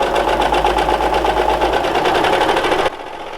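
A serger or sewing machine stitches a homemade fabric face mask, a loud, fast, steady mechanical whirr up close that drops to a quieter hum near the end.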